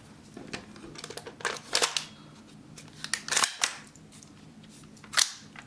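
A gel blaster gas-blowback rifle, an RPM MWS-style build, works its bolt with several sharp metallic clicks and clacks spaced irregularly, punctuated by a few crisp snapping shots, close and fairly quiet with a low background hum.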